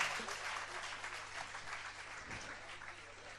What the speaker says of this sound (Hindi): जरा जोरदार तालियां बजाइएगा अनुमोदना स्वरूप।